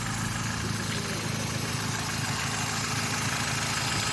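A Vauxhall Astra mk5 1.4 16-valve engine idling after a front down pipe replacement, a steady, even hum with broad exhaust hiss, continuous and close with no talking.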